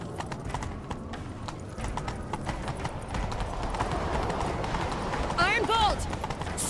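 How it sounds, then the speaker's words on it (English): Horse hooves clip-clopping at a steady gallop in The Witcher 3, a dense rhythmic pounding under game talk, with a short whinny-like call rising near the end. "Grab a horse, we'll chase him down."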